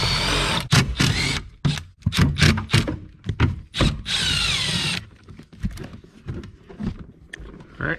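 A power drill whirs in repeated short bursts as screws are backed out of an Audi A4 dash panel, the motor revving up and stopping close by, with small clicks and handling noises between runs.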